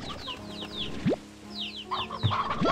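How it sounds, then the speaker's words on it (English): Chickens in the Slime Rancher 2 video game cluck in short, rapid, bright calls, with several birds overlapping close by and a few sharp rising squawks. "Also, we can take more chickens."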